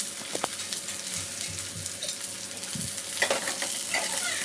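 Okra pieces with golden-brown onions fry in a pan, a continuous sizzle with scattered crackles and occasional spatula scrapes, close and steady with no voices.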